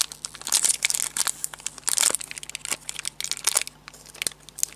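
Sealed Pokémon EX Emerald booster pack wrappers being torn open up close, a run of sharp crinkling and ripping bursts of foil-like plastic, irregular and busy throughout.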